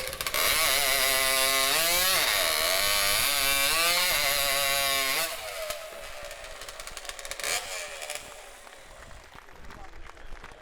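A STIHL chainsaw cutting timber at the 2024 New Zealand Timbersports competition: a loud, high revving whine that dips and recovers in pitch as it bogs in the cut, then drops away after about five seconds into quieter crowd noise.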